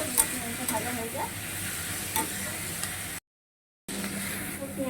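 Onions sizzle and fry in a pan for chicken kosha, a steady close sizzle broken by stirring scrapes, with a brief gap of silence partway through.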